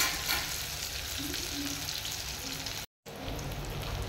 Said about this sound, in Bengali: বেগুনটা আমার প্রায় ভাজা হয়ে এসেছে, একটু লাল লাল করে ভেজে নিতে হবে।